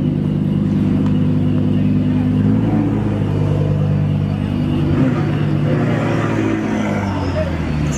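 A McLaren sports car's engine rumbles and revs at an outdoor car meet, loud and close, with the crowd murmuring underneath.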